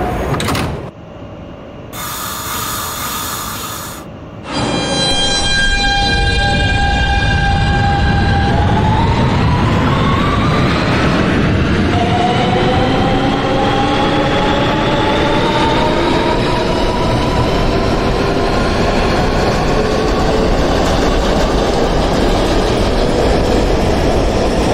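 An R160B Siemens subway train on the F line in the Openbve simulator: short electronic tones give way to the train pulling away, its motors whining in rising, stepped pitches over a loud, continuous rumble.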